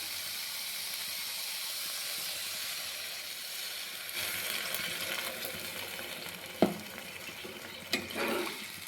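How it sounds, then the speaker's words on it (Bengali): Water is poured into a hot pan of potatoes cooked down with spices, raising a steady close hiss and sizzle, with a couple of sharp clinks toward the end. "এবার এর মধ্যে আমি দিয়ে দিব পরিমাণ মতো জল।"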